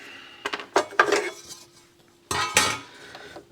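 Screws are removed from a Pioneer PL-L1000A turntable under repair, heard as close, sharp metallic clinks and rattles in two short bursts, with quiet gaps between them.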